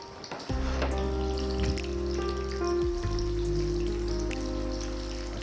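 Manda patti spring roll wrappers frying in a pan make a loud, steady crackling sizzle after a brief quieter start, continuing at close range with dense popping and a low background hum.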